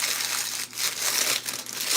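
Sheet of parchment paper crumpled by hand in a kitchen while prepping no-bake treats, a dense crinkling rustle running through the whole moment with two brief dips, close and fairly loud, no talking.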